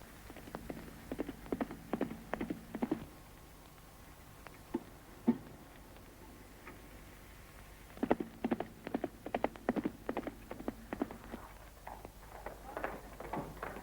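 Horse hooves clip-clop in uneven bursts of sharp knocks, several steps in a row, then a pause and another run of hoofbeats, fairly faint and moderately distant.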